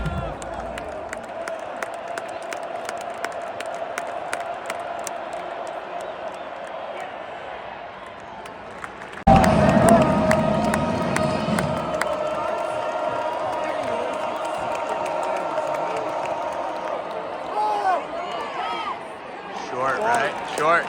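Steady crowd murmur fills a college football stadium at an Iowa State game, swelling suddenly into a louder roar partway through and staying elevated, with talk nearby.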